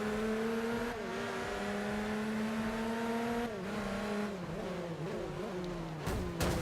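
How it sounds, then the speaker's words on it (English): A race car in the Forza racing video game revs and accelerates hard, engine pitch climbing and dropping through gear changes, loud and continuous with a sharp tire squeal near the end. "He revs his engine"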